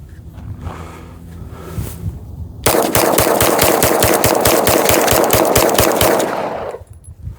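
A Glock pistol, fed from a cheap aftermarket 17-round magazine, fires in rapid succession: a steady string of loud, sharp, closely spaced shots lasting about four seconds, with no talking.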